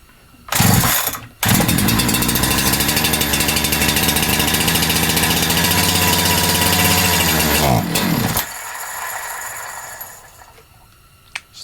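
A Holzfforma G372XP chainsaw coughs briefly, then roars loudly and steadily at high revs for several seconds without settling to an idle before it cuts out, leaving quiet handling noises.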